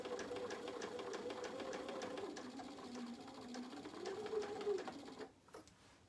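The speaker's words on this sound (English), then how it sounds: "I'm just going to stitch these together with a 1/4 inch seam allowance." A sewing machine stitches fabric pieces together with a quarter-inch seam, running in a steady fast whirring hum with a rapid needle rhythm for about five seconds before slowing and stopping, with a few faint clicks at the end.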